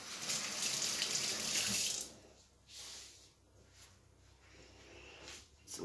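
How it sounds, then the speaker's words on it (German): A kitchen tap gushes loudly for about two seconds as hands are washed, then the water cuts back to softer splashing and trickling. "muss mal eben die Hände waschen."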